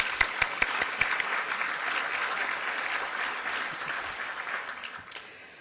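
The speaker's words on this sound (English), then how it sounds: "Let's give them a round of applause." Audience applause at the SCAG Economic Summit, honoring the executive director and staff: a dense, steady wash of many hands clapping, with a few sharper claps at the start, fading gradually toward the end.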